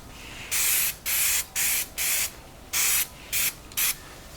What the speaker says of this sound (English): a little brake clean, clean it right off